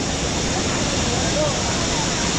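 Kataldhar waterfall in the Sahyadri hills, in heavy monsoon flow, gives off a loud, dense, continuous roar of rushing water close at hand, with no break.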